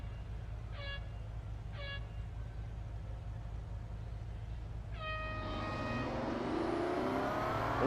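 A Bentley Continental GT Speed in the Real Racing 3 mobile game: two short tonal beeps of a start countdown, then a longer tone as the engine revs rise and the car accelerates in a building, whining drag-race launch.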